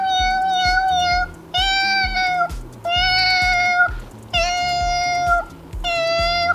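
Cats meowing repeatedly at a cat cafe, several long, drawn-out calls in a row with short gaps, loud and close over a busy room murmur.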